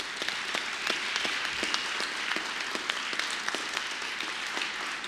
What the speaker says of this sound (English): They deserve that applause and more